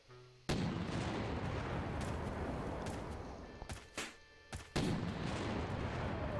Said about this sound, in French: Ok, boulet de canon.